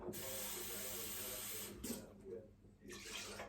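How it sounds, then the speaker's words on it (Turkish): Water pours into a pastry dough mixture of eggs and flour for su böreği, a steady near hissing stream broken by a few short pauses and splashes, with no talk. "içerisine su koyacağım"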